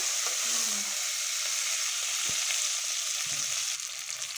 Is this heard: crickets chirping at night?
no